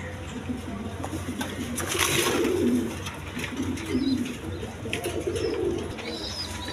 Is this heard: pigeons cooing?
yes